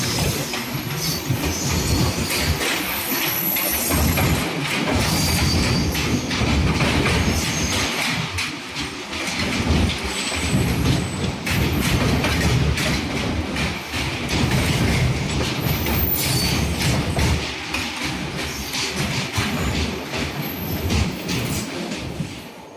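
Kerala Express (12625 Thiruvananthapuram–New Delhi) rolling along the rails near Tirupati, a loud, steady rumble of wheels with rhythmic clickety-clack over joints and occasional squeal, heard from on board throughout with no talk.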